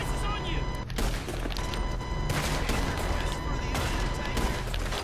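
Gunfire rings out in the video game Red Dead Redemption 2 as a dense, loud burst of overlapping shots, with sharp cracks near the one-second mark and again after two seconds, while players talk over it.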